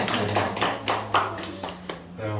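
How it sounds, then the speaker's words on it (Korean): A church congregation applauds the volunteers who decorated the church for the first Sunday of Advent, a short burst of scattered clapping under a droning background tone. "박수일까요?"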